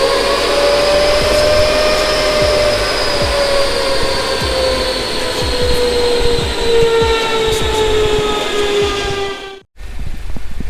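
A tuned Renault Clio 4 RS engine revs hard on a test run, a loud sustained high-pitched drone with harmonics sliding slowly down in pitch for about nine seconds before cutting out abruptly, then resuming briefly.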